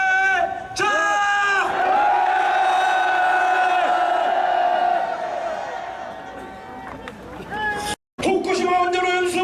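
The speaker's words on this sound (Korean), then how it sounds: "여야 국회의원들이 들을 수 있도록 힘찬 함성 한번 질러보도록 하겠습니다." A protest crowd outside the National Assembly against dumping Fukushima wastewater lets out a long, loud collective roar that swells and fades over several seconds, then breaks off briefly before fresh shouting starts.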